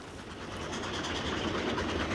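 A steam train coasts downhill on a railway line south of Masbury, giving a steady, continuous rumble with rhythmic clickety-clack of wheels over the rail joints, fairly close and without talk.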